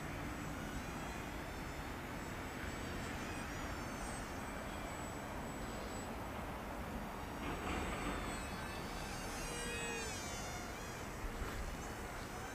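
Small Z51 Predator beginner RC airplane with its electric motor droning continuously overhead, a thin, buzzing whine that rises and falls slightly as the throttle changes, steady and moderately distant.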